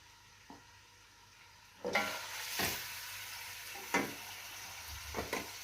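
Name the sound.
meat frying with onion and garlic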